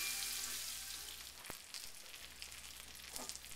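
Blackened catfish fillets frying in a cast-iron pan, a dense, steady hiss with a single sharp clink at mid-point and softer shuffling after it.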